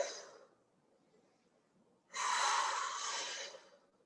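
A long, forceful breath pushed out through the mouth during a kettlebell row, loud and close for about a second and a half after a brief quieter breath, with no talking.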